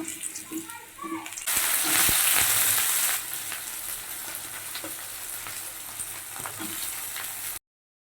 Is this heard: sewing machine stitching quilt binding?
no